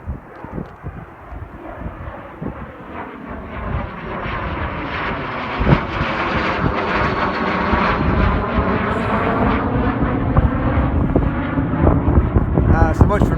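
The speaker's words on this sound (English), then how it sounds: "It's a jet taking off on runway 29 towards the west." Cessna Citation business jet taking off westbound on runway 29 in gusty wind, a steady roaring engine noise that swells and stays loud throughout, with wind buffeting the microphone.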